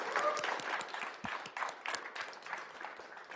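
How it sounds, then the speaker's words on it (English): Audience applause at the close of a talk on behavior driven development, a smallish crowd clapping steadily at moderate level with a few sharper individual claps, with no one talking over it. "Let's give him a round of applause."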